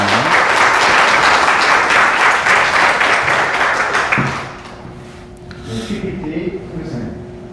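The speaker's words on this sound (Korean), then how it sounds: "자, 우리 선교님 나오실 때 힘차게 격려의 박수 보내주시길 바랍니다" An audience at a church missionary report applauds loudly and steadily for about four seconds, then the clapping fades out and a person begins speaking.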